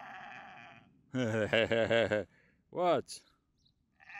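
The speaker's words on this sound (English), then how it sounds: "Hey, you, sheep." A sheep on the Camino trail bleats loudly nearby in a wavering burst, then gives a second shorter bleat, while a person speaks briefly.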